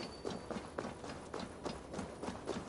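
A reindeer mount in Assassin's Creed Valhalla trots along with rhythmic, evenly spaced hoofbeats, a steady clip-clop pattern at moderate loudness.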